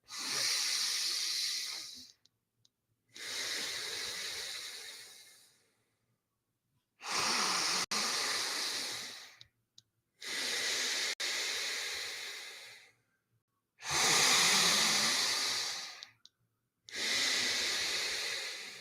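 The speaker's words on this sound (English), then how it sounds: "Inhale through your nose and exhale through your nose." Slow, deliberate breaths in and out through the nose during a breathwork session, each a loud, close, airy rush lasting a couple of seconds, separated by short silent pauses, repeating about eight times.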